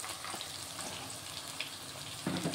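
Soaked meal maker chunks frying in hot oil, a faint, steady crackling sizzle with a slightly louder burst at the end.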